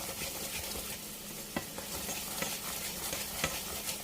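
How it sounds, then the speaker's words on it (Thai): Sugar melting toward caramel in a pan for Pad Thai sauce, a dense steady bubbling sizzle with regular stirring clicks of a utensil, close and without speech. "นี่นะคะเคี่ยวนะคะเคี่ยวน้ำตาลนะคะ ให้เขาละลายดีนี่นะคะ แล้วก็ให้เขาเป็นสีคาราเมลนิดๆ"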